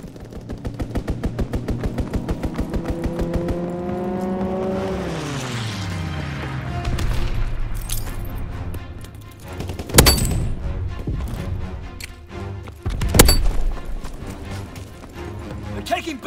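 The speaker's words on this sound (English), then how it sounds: "Strafing run inbound." In the Call of Duty: WWII multiplayer game, a strafing run opens with rapid rhythmic gunfire. An aircraft engine rises and then dips in pitch, and loud bursts follow. A voice speaks over the battle.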